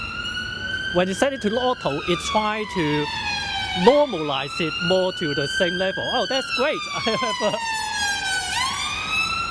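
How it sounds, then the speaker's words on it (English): A wailing ambulance siren sweeps up and down in pitch, loud and close, while a person talks over it, recorded on a lavalier or wireless mic. "That's a siren from the ambulance."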